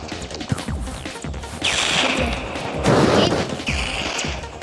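Bursts of crashing explosions and crackling gunfire from the game Toilet Tower Defense 2, loud and layered, with a faint voice underneath.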